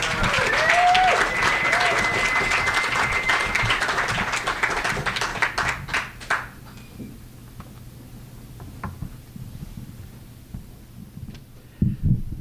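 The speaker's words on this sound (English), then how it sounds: "please give a big warm round of applause to our visiting poet from Arizona, Shawnte Orion." An audience at a poetry reading applauds a visiting poet from Arizona, a full burst of clapping and a few cheers that thins out after about six seconds into scattered claps and room noise.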